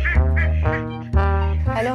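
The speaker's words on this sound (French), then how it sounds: "un couple de sarcelles, c'est des mâles" Male teal ducks kept as live decoys for duck hunting beside a river, quacking loudly and close in three or four strong, nasal calls with short gaps between them.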